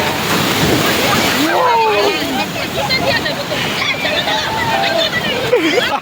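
Ocean waves surge and wash over the sand at Kuakata sea beach in a loud, continuous roar with wind noise buffeting the microphone, while people shout and talk excitedly over the surf.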